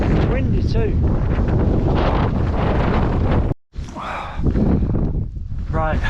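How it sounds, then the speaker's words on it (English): Cold wind batters a fell summit at Fairfield in the English Lake District, a loud, constant roar over the microphone, broken by a brief drop, with a person talking through it. "Windy too."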